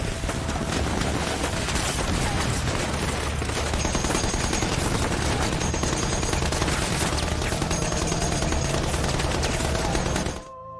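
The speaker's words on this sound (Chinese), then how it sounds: "罗伯特收起重机枪，也前去加强左翼防守" Heavy machine gun fire and dense battle gunfire from the war drama The Pacific rattle continuously in rapid loud bursts for several seconds, then cut off abruptly.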